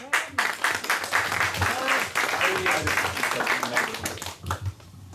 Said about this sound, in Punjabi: ਇਹਨਾਂ ਲਈ ਡਬਲ ਤਾੜੀ ਚਾਹੀਦੀ ਹੈ